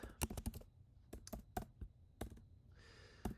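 Quick bursts of typing clatter on a computer keyboard, with irregular clusters of sharp key clicks and short pauses between them, close and fairly quiet, with no talking.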